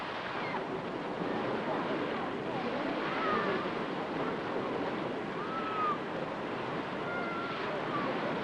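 Seaside surf at Broadstairs, Kent, washes in as a steady, loud, broadband roar that swells gently now and then, with no voices over it.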